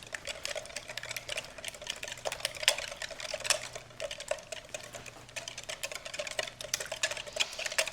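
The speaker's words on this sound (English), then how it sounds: "So give that a whisk." Eggs whisked in a bowl for a quiche, a quick, steady run of light clicking and tapping that keeps going throughout at close range.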